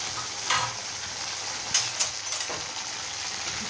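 Tomato and coriander sauté in a pan for a field crab soup, making a close, even sizzle broken by a few sharp scrapes of a spoon stirring against the pan.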